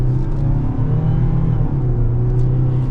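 A 2026 Mazda CX-90 PHEV plug-in hybrid accelerates with its engine running, giving a steady, loud, close engine drone with a low hum that holds throughout, no voices.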